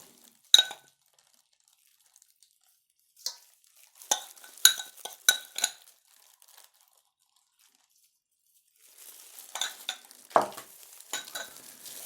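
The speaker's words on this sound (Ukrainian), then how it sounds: "І перемішуємо." Ground pepper and salt stirred into samsa filling in a bowl, giving scattered scraping and clinking strokes in short bursts separated by quiet gaps, close and fairly soft.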